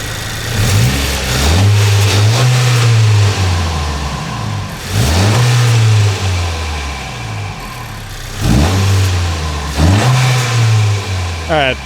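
A 2023 Acura Integra engine fitted with a Takeda/aFe cold air intake revs up three times, each rise climbing and falling back to idle, loud and close with intake whoosh and a voice speaking.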